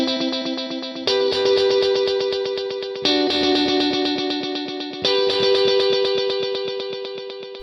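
An electric guitar runs through a dual delay with heavy feedback and a 70% mix in a preset, with chords struck about every two seconds and each ringing into long, dense, repeating echoes.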